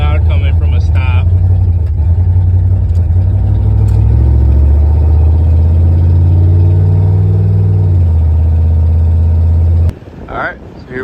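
A 5.2L Magnum V8 with open headers roars loud and steady from a stop, a heavy low rumble swelling as it pulls away and then cutting off abruptly near the end.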